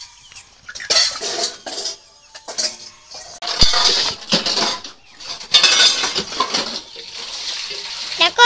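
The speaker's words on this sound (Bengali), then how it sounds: "এখন মেজে নিচ্ছে।" Dishes and metal pots are scrubbed close up, with irregular scraping strokes, clinks of cutlery and soft splashes of water coming in uneven bursts.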